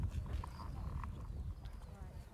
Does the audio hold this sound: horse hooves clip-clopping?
yes